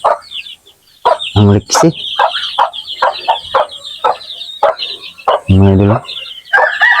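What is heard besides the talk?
chickens and chicks clucking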